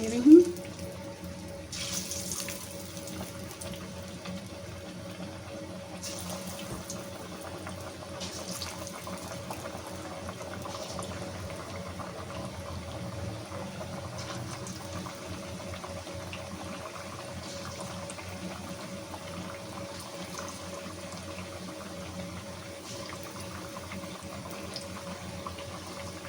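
Potato-chip pakoras fry in a pan of hot oil, giving off a steady, gentle bubbling sizzle for the whole stretch after a brief clunk at the start, with occasional quiet voices in the background.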